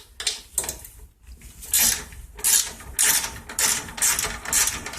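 A ratchet fitted with a 3/8 socket works a bolt loose on a 2012 Yard Machines 11A-A54R729 mower, giving repeated loud clicking bursts in quick strokes with short pauses between them, close up.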